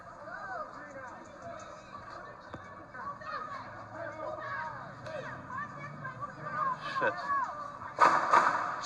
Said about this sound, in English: These seem to be gunshots.